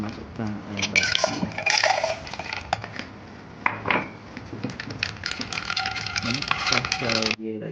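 Ice cubes clatter and clink into a glass of caramel milk drink, a run of sharp, irregular knocks and rattles up close, with a voice talking over part of it.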